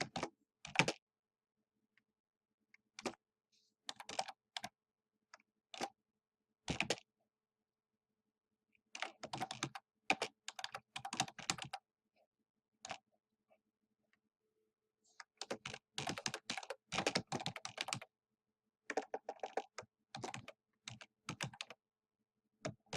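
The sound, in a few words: typing on a computer keyboard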